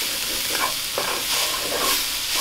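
Onions and peppers frying in a Dutch oven over heat, a steady close sizzle and hiss with soft stirring scrapes, continuous and fairly loud with no voices.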